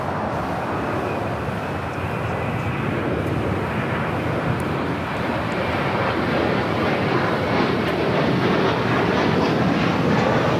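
Breeze Airways Airbus A220-300 airliner, Flight 706 from Jacksonville, at Los Angeles International Airport, giving a steady, loud broadband jet roar that holds evenly throughout without a break.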